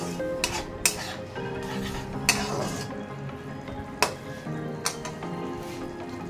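Katla fish curry in a pan with chilli powder being stirred through, a low steady sizzle punctuated by several sharp spatula clacks and scrapes against the metal.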